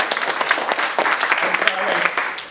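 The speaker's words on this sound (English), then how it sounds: "Give a round of applause!" A room full of people clapping, with scattered cheers mixed into the steady applause throughout.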